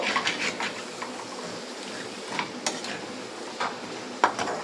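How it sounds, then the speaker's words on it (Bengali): Yogurt prawns in mustard oil being stirred in a pan, giving a steady soft sizzle with repeated light scrapes and a few sharper clinks of the spoon against the metal pan, close and alone without talk. "সরষের তেল দিয়ে ভালো করে আবারও একটু নেড়ে নেব।"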